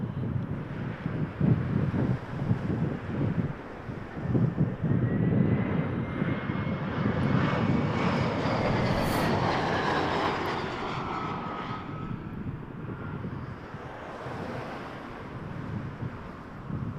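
A fixed-wing airliner's jet engines roar steadily at Toronto Pearson Airport, loud and close with rising and falling whine and some wind buffeting, no talk.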